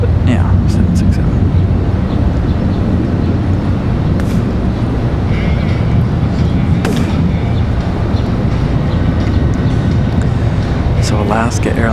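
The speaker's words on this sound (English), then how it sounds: "So Alaska Airlines rolling out of here." Alaska Airlines jet, a Boeing 767, taxiing out at Washington Dulles International Airport, a loud, steady broadband engine roar with wind buffeting, and people talking faintly over it.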